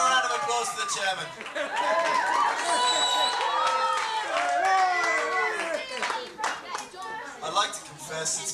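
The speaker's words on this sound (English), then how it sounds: "Let's have a round of applause for the chairman." A debate audience applauds the chairman, with dense clapping and crowd chatter from many people. Several voices talk over the steady applause, which thins out toward the end.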